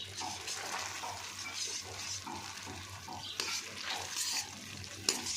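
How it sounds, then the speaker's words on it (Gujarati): Gel sautéing in ghee over a gas flame for a Kuvar pak sweet while being stirred, producing a soft, fairly faint sizzle with scattered stirring scrapes and a sharper clack near the end; nobody speaks. "ઘીમાં થોડીક વાર માટે આપણે સાતળવાનું છે, જેથી કરીને આ જેલ છે સરસ પાકી જાય"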